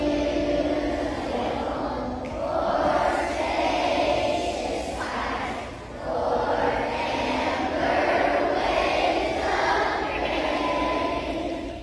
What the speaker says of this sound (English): This is America the Beautiful, sung by the school's entire student body.